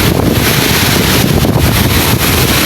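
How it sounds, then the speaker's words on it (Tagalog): Large waves breaking on a beach in front of a seaside home, a loud, continuous rushing surf roar with wind buffeting the microphone, no speech. "Bumabasag po yung alon."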